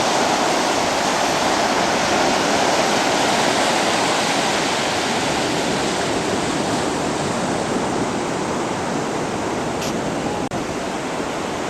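Steady, loud broadband roar of surf washing in at the beach by Fort Macon, a constant rushing wash with no distinct breaks, heard close and alone.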